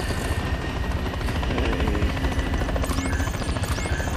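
Helicopter in the Call of Duty Modern Warfare III video game, a loud, steady rotor and engine drone filling the whole stretch, with faint high whooshes near the end.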